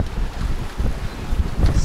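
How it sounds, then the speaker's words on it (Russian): Gusty wind of about 25-30 knots at sea on a sailboat buffets the microphone in low, rushing waves, with water and hull noise underneath and no voices. "С ней пришел ветер."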